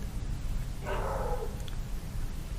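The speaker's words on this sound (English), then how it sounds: "I'm pretty sure you guys hear the dog out there." A dog barks outside, a single short distant bark standing out faintly over a steady background hum.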